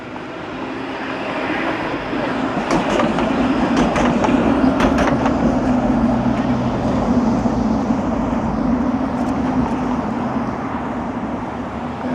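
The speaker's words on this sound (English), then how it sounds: "That's where we heard that train just a minute or so ago." A train rumbles past on Toronto's main rail corridor at a moderate distance, a steady low drone with faint clanks, continuous for the whole stretch.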